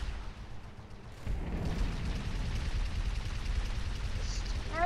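Turret gunfire in the Halo 3 video game: a continuous stream of rapid, heavy, booming shots that starts partway in and keeps up steadily at a moderate level.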